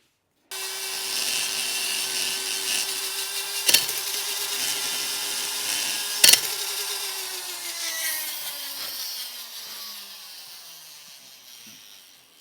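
A power grinder whines steadily against an aluminum LS1 cylinder head during porting, a close continuous rasping drone with a couple of sharp knocks and the pitch slowly sagging under load.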